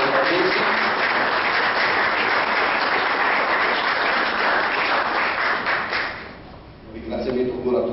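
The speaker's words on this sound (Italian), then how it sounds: "Io di solito inizio sempre con un applauso al protagonista, Lorenzo Patrizio." Audience applause at an Italian book presentation, a dense sustained clapping that fills the room, thins briefly near the end, then a voice begins speaking over the last scattered claps.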